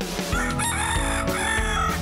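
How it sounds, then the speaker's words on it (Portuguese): Free-range chickens on a small rural farm, a rooster crowing loud and close in long drawn-out calls while hens cluck in the background. "criação de galinha caipira"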